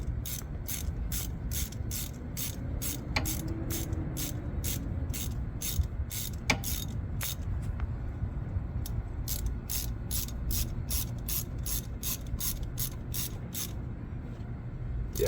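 A ratchet runs down the CV axle bolts on a Nissan Pathfinder. Its pawl clicks in a rapid, even series of sharp ticks, close and steady, with short breaks and a low mechanical hum beneath.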